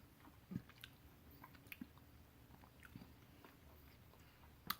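Close, quiet chewing of a fudge-textured toffee candy from a United Kingdom snack box, soft squishy bites and mouth sounds spread across the clip with a sharper click near the end.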